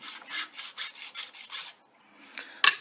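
A fine abrasive is rubbed back and forth on a Ford Model R axle, giving six even rasping strokes in a steady rhythm, then a pause and a sharp click of metal.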